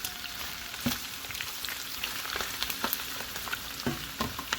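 Chopped onion and minced garlic sizzle in a pan with browned chicken pieces for butter chicken, a steady hiss with occasional sharper crackles and stirring clicks throughout.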